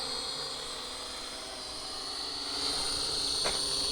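A Helicute Hero quadcopter drone flies, its steady high-pitched whine of small propellers droning evenly at moderate distance, fairly faint and without voices.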